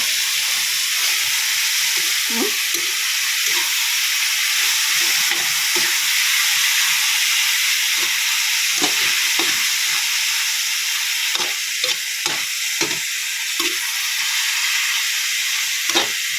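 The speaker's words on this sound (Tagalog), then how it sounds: "Ang hinimay na chicken. Tapos, halo-haloin lang natin." Shredded chicken sizzles in a frying pan, a bright, steady hiss throughout, broken by repeated short scraping and clacking stirs at an uneven pace, close and fairly loud with no voices.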